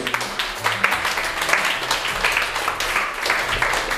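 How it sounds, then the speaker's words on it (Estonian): Audience applause at a figure skating show, a steady broadband wash of clapping that runs without a break and stays dense and fairly close, with a few low voices mixed underneath. "Ja palun siia Victoria, ikkagi ei katke aplaus."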